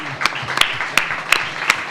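Audience applause during a panel discussion about Cuban culture and its filmmakers: a steady bed of scattered clapping with a few sharp, louder claps standing out, moderately close and lasting about two seconds.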